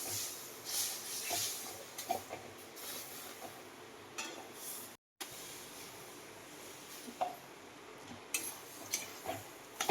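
Besan-type powder frying lightly in oil in a home kitchen pan gives a steady close hiss and sizzle. Occasional utensil clinks and taps sound over it, with a brief dropout midway and no voices.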